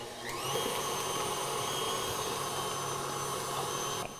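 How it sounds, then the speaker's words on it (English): Stand mixer with a paddle beating cream cheese buttercream at medium-high speed, a steady close motor whir that holds continuously with no talking. "I'm gonna let it go just on medium high with the paddle until it looks like super smooth and fluffy"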